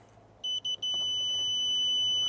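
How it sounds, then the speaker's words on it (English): A multimeter gives short continuity beeps while testing a furnace high limit switch, three quick chirps followed by one sustained steady tone, clear and moderately loud over quiet room noise. "And we're hearing the beep. If we're hearing the beep, that means there is continuity"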